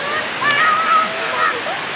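A waterfall at Tanay, Rizal roars in a steady broadband rush close by, with faint voices and a thin whistle-like tone mixed in.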